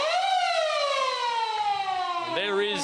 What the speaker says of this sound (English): the siren for half time.